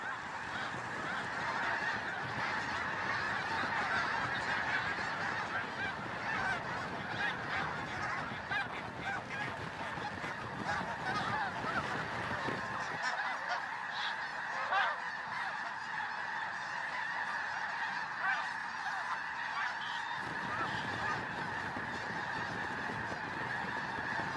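A flock of fleeing geese honking loudly and continuously, many overlapping calls forming a dense, chaotic clamor throughout.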